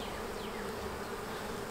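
Honey bees fill an open beehive with a dense, steady buzzing hum, close and continuous throughout, with no voices.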